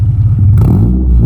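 A stock Honda Civic FD2 Type R engine revs hard through its exhaust, a brief, loud, deep roar heard close up.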